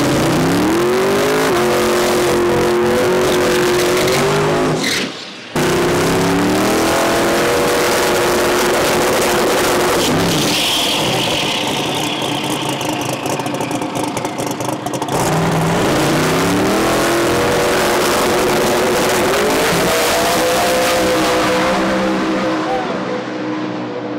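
A drag race car's engine revs and idles roughly as it drives up into the stage lanes, loud and close, with repeated throttle blips and surging acceleration over about twenty seconds.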